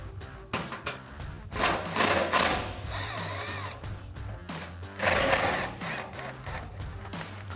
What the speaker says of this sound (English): So we're going to remove them with our gun and our 12 millimeter.